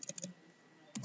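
Keystrokes on a computer keyboard while writing code, a quick cluster of close, crisp taps followed by a pause and then a second short burst.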